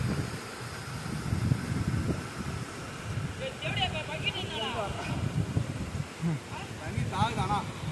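Strong wind buffets the microphone in continuous rumbling gusts at a hilltop waterfall, with faint voices talking underneath.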